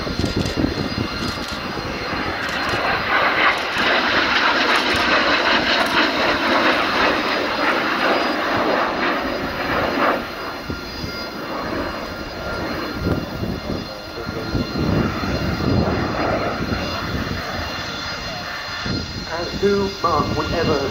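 A Messerschmitt Me 262 jet fighter flies a display at an air show in Britain, its engines roaring steadily and loud for the whole stretch, swelling and fading slightly, while a commentator talks over it.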